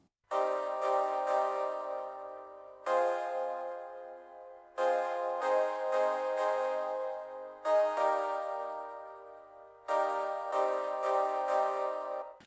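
Lush, sustained synth chords change every couple of seconds, swelling with a bright, shimmering wash of effects in a slow, dreamy progression.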